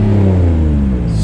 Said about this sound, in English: I don't know if you guys can hear this exhaust leak,